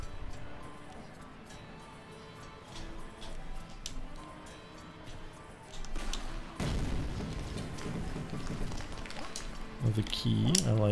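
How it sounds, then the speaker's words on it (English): A bomb blowing up an obstacle in the video game Clive n Wrench: one sharp, loud burst midway that lingers as a rumble over steady game music and someone talking. "I guess I want to bomb that away"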